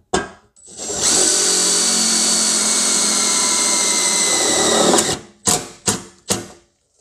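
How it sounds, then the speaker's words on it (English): A power drill sinks a self-tapping screw into sheet-metal replacement rear quarter panels on a 2004 Chevy Suburban, one loud steady whine lasting about four seconds, followed by three short bursts as the screw is snugged down. "Sink a screw down the bottom and see what she looks like."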